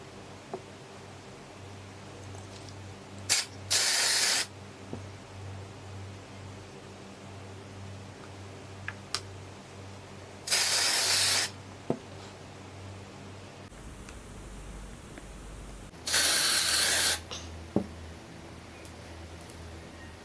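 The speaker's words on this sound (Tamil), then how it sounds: "இப்போது இந்த பக்கம் வந்து நம்ம ஸ்ப்ரே பண்ணலாம்." Dry shampoo sprayed from an aerosol can onto hair in three separate hissing bursts of about a second each, close and clear against a quiet room with a faint hum.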